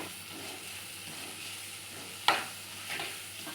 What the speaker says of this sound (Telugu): ఉప్పు మొత్తం కలిసేలాగా ఒకసారి గరిటతో మొత్తం అంతా కదుపుకుందాం ముక్కల్ని.